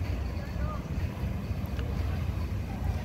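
Fishing boat engines on the water during calm weather, a steady low rumble of several motors mixed with wind noise, continuous throughout at moderate level.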